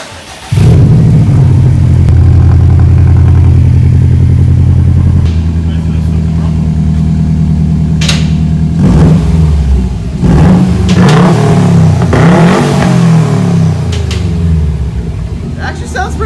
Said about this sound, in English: he's gonna start it up just to see what it sounds like right now with no catback exhaust